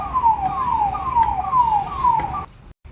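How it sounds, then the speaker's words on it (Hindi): An ambulance siren wails outside in repeated falling sweeps, loud and steady for a few seconds before cutting off abruptly. "देखो गाइस, देखो एम्बुलेंस।"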